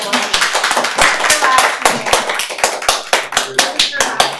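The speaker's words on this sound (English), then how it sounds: "everyone is clapping and giving hearts on Zoom" Applause at an online accessibility and inclusiveness advisory committee meeting on Zoom: steady, dense hand clapping from several people continues throughout, close and moderately loud.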